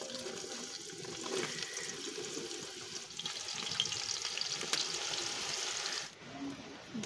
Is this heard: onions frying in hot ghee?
yes